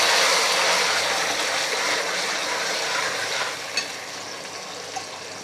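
Onion-tomato paste sizzling in hot oil with cumin and mustard seeds on a low flame, a steady hiss of frying that runs throughout, with a couple of faint clinks near the end.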